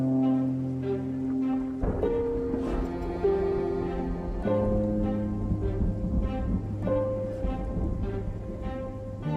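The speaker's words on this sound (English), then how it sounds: "Jules eventually hears the roaring thunder he had predicted" Rolling thunder and steady rain in the Project Zomboid video game, a low rumble and hiss set under layered sustained tones that sound like a music bed.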